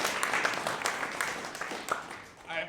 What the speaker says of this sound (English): Clap it up, yes.